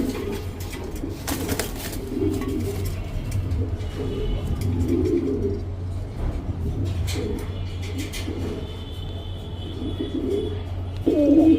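Pigeons in a farm cage cooing steadily in low rolling calls, with a continuous low hum and brief rustling or flapping around them.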